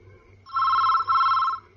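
Telephone ringing with one double electronic ring, two close bursts back to back, loud and near, over a faint low rhythmic hum.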